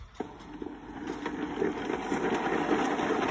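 Combat robot driving forward on its first full function test: a steady mechanical motor whir with faint knocks, building slightly in level, plus a thin high-pitched electronic whine above it.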